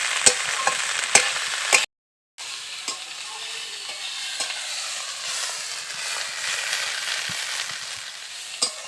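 Drumstick (sajina) flowers fry in a pan with a steady, close sizzle and crackle, broken by a few sharp clicks of stirring and one brief dropout partway through.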